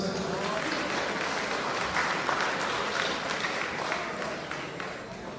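A crowd at a town hall ceremony honoring artisans in San Andrés Huaxpaltepec claps continuously, a thick sustained wash of applause that fades slightly toward the end.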